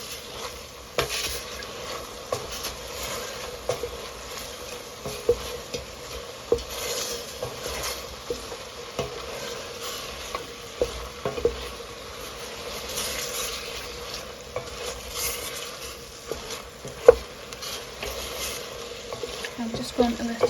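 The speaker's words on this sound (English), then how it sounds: "I'm going to keep stirring it so it doesn't caramelise too much" Blackberries and sugar being stirred in a pot on a camping stove outdoors, giving a soft scraping and bubbling texture with occasional clinks of the spoon against the pot, steady throughout.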